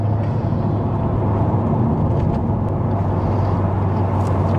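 Honda Civic Type R FK8 engine, a steady dense rumble and whir heard from inside the car, loud and constant throughout with no talking.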